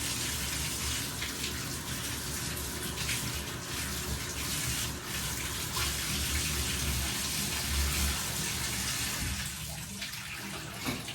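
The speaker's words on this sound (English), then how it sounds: "I use the hot water for my shower because it gets hot, really fast" Hot water runs steadily from a shower tap, a continuous broadband rush with no pauses, fairly close and even in level throughout.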